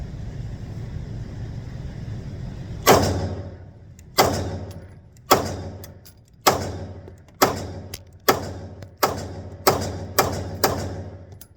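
An HK P30L pistol fires at a target: nine loud, sharp shots spaced roughly a second apart, each with a short ringing decay. No voices.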